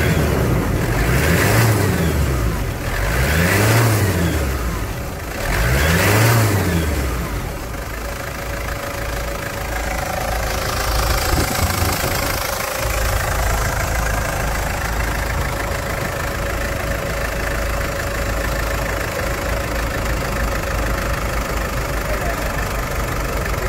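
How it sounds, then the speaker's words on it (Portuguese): Toyota Land Cruiser Prado engine with high mileage, single owner, revved in a workshop: three loud rising-and-falling revs in the first seconds, then a steady idle rumble with no talk. "Que melodia o motor com esta quilometragem"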